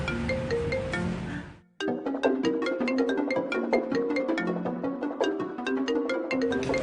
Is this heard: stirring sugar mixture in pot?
no